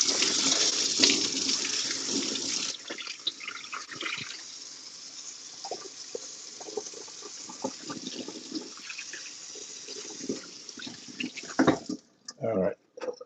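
A kitchen tap runs steadily for about twelve seconds while chicken is prepared, the flow loud at first and then softer as hands rinse under it, before it shuts off into a few drips and clatters.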